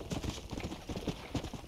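Hooves clip-clop in a steady, quick rhythm as a horse trots along in the Red Dead Redemption video game, moderately close and fairly soft.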